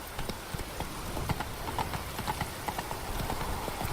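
Hooves of the horse Roach clip-clopping in the video game The Witcher 3: Wild Hunt, a steady rhythmic trot under light ambient background.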